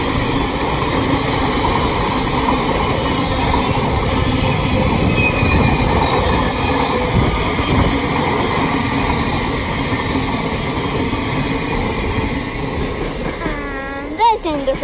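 A long freight train rolls steadily past on a railway line at Harringay, loud and close, with continuous wagon rumble and clatter, ending in a brief squeal of wheels as the last cars go by.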